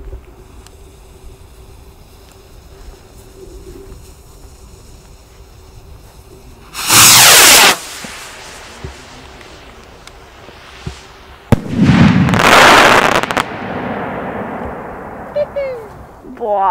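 A Broken Crown / Big Boom consumer firework battery set off outdoors: two loud, sustained bursts of rapid crackling, about a second each, separated by quieter ambient stretches, with faint whistling near the end.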